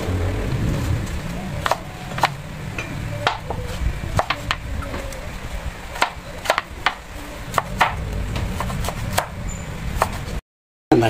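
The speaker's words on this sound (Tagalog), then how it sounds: "yung carrots naman ang aking ihiwain" Carrots being sliced with a knife on a cutting board while making pansit bihon: a long run of sharp, close chopping knocks in an irregular rhythm, loud and clear, with a brief silence near the end.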